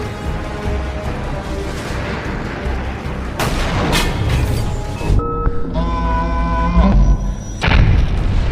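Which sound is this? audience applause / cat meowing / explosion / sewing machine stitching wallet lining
explosion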